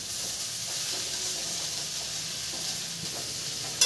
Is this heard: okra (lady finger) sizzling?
yes